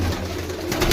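A pigeon gives a short, low, soft coo, heard close among other pigeons kept for sale, with faint background noise and no talking.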